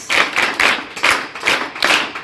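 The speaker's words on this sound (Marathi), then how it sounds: "अगदी जोरदार टाळ्या वाजवून त्यांचं आपण अभिनंदन करूया" An audience at a school felicitation ceremony claps in a rhythmic, even beat, about two bursts per second, loud and close, with no voices over it.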